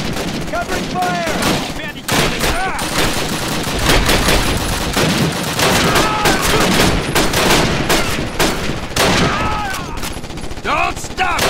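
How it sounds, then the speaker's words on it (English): Dense, continuous gunfire from Call of Duty: United Offensive, rapid machine-gun bursts and rifle shots rattling without pause at close range, with shouted voices mixed into the battle. "Covering fire!"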